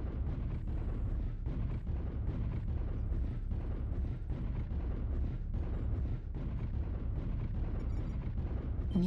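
Artillery strike in a mech video game, a rapid barrage of heavy, booming explosions rolling one after another with deep low rumble, continuous and loud throughout.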